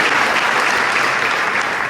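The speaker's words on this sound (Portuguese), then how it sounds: "Dê uma salva de palmas do nosso Senhor para a glória de Deus" A church congregation in Ipatinga applauds during a Sunday service, a thick, continuous wash of many hands clapping at once, close and loud, with no pause.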